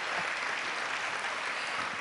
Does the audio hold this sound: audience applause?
yes